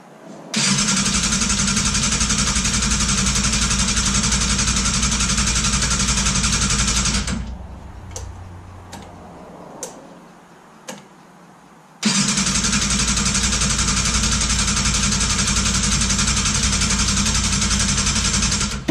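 A Yamaha YZF600R Thundercat motorcycle with a weak battery cranks on its starter motor in a long, loud, steady whir, pauses with a few clicks, then cranks again at length.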